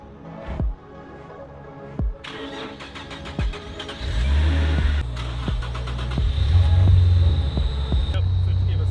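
A Nissan Z car engine cranks and fires up, with a few sharp clicks and thumps before it catches, then settles into a steady, rising rumble close by.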